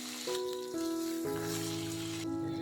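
Fish rubbed with salt and turmeric frying in oil, a soft, even sizzle running beneath sustained tonal notes that shift pitch a few times, quiet and close.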